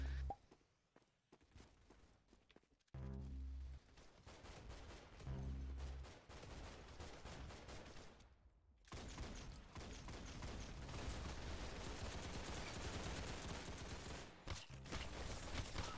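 Rapid machine gun fire in the Roblox video game, dense bursts of shots running nearly continuously and loudly through most of the stretch, with footstep-like thumps early on.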